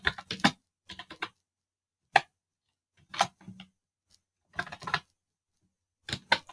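Short bursts of keystrokes on a computer keyboard, close and crisp, arrive in small clusters separated by silent pauses while a login page is being coded.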